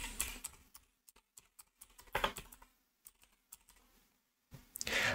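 Steady clatter of keys on a computer keyboard, irregular taps in quick runs with brief pauses and no talking, while typing a search for Chrome.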